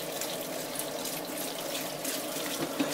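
Water runs steadily over sliced cucumber pickles in a sink as they are rinsed and drained, a continuous close hiss and splash with no pauses.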